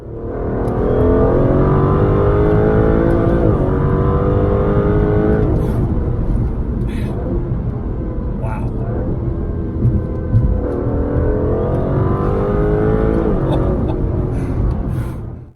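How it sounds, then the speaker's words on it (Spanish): An Aston Martin sports car accelerates hard, its engine revving through rising and falling pitch sweeps in a loud, sustained roar with no pauses. "esa aceleración también se siente muy atlética a pesar de su tamaño"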